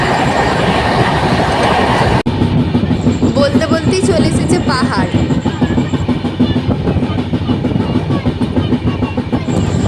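Dhauli Express passenger train from Howrah to Puri running on rails, a loud continuous rumble and rattle heard from inside the carriage, with a sharp bang and faint wheel squeal, while a voice speaks briefly over it.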